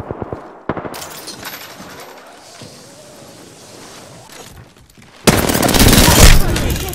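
Rapid automatic R-99 submachine gun fire in Apex Legends, with a burst at the start and a dense, loud stream of shots near the end. Quieter battle noise fills the middle.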